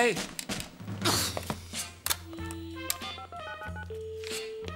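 Telephone dialed in a French satirical puppet sketch: a run of short tonal beeps and clicks rises near the end, heard over a busy bed of music and voices.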